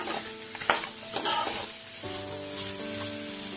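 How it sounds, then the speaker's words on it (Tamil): Cut mango pieces are stirred into a hot pan of tempered mustard seeds and spices. A spoon scrapes and clinks against the pan over a steady sizzle, close and moderately loud, with a sustained tonal hum underneath. "வெட்டி வச்சிருக்கிற மாங்காவை சேர்த்துட்டு நல்லா ஒரு கிண்டி விட்டுக்கோங்க"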